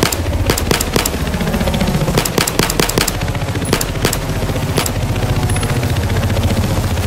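Rapid automatic gunfire rattles through a Battlefield 4 firefight, sharp bursts and single loud cracks layered over a dense, continuous battle din, close and intense with no talk.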